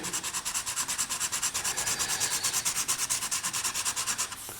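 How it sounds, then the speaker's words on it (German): A pencil lead is rubbed back and forth on a small sandpaper sharpening board, giving a steady, rapid rhythmic scratching close up that continues throughout and stops abruptly at the end. "ist diese Mine hier mit so einem Schleifbrettchen. Hier sind einzelne Schleifpapier drauf."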